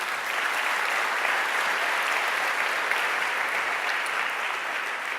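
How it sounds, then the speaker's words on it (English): Steady, sustained applause from a conference audience thanking backers and sponsors at a webpack talk, a dense even wash of clapping with no pauses, loud and close throughout. "give them a round of applause because we would not be here today if it wasn't for these people"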